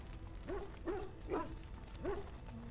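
A dog in the video game Dragon Age Origins gives four short, evenly spaced whimpering yips over a low background hum, moderately loud and close.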